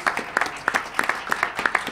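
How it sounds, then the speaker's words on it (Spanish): A small audience claps for award winners at an economics research awards event, scattered distinct claps at a moderate level with no talking. "un aplauso para todos los premiados"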